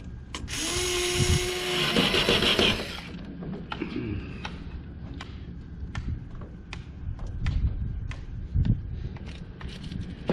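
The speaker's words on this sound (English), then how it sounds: "there's construction going on next door." A loud, high-pitched power drill whines for a few seconds from construction next door, followed by scattered clanks and knocks of ongoing building work nearby.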